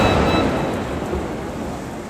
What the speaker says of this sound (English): Thunder boomed outside.